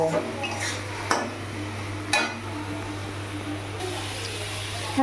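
Potatoes are stirred and fried in a pot for a tengra fish curry, with a spoon clanking sharply against the metal twice over a low, constant kitchen hum and a quiet sizzle.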